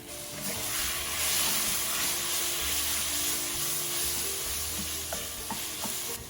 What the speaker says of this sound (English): I'm just gonna throw in the roasted tomatoes.